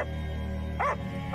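A dog barks twice in short, close bursts, the second cut off at the end, over a steady low background hum.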